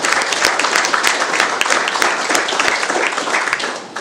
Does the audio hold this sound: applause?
yes